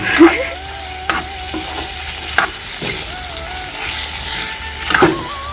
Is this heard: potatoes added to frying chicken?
yes